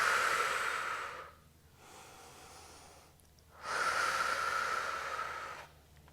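Slow, deep breaths on a mat during a Pilates stretch, a long airy inhale then exhale repeated twice with quieter pauses between, close to the microphone.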